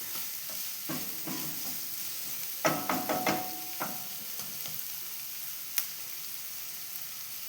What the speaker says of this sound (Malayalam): അപ്പോൾ ഇത് സവാള വഴന്ന് വന്നിട്ടുണ്ട്